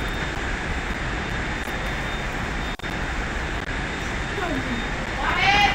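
Steady broadband engine drone of a fixed-wing aircraft in flight, continuous and fairly loud throughout, with no talk over it.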